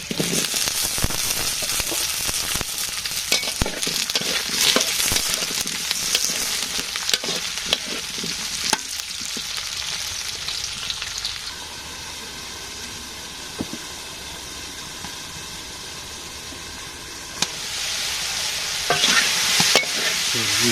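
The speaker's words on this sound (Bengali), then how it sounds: "পেঁয়াজ দিয়ে দিলাম আলুটা ভেজে নেই এর সাথে" Potato and onion fry in a pan alongside pangas fish, a loud dense sizzle with frequent stirring scrapes that fades into a quieter steady hiss midway before the vigorous stirring returns.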